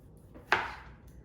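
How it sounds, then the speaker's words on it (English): A single crisp knife chop through strawberries and other fruit into large slices on a cutting board, one sharp close cut standing out against a quiet kitchen. "So basically just cut up the fruit in fairly large slices."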